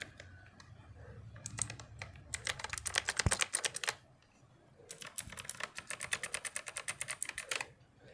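Keys clatter on an RP2040-based 60% mechanical keyboard in quick bursts of rapid presses, with a short pause between two fast runs of clicky, close, fairly loud keystrokes.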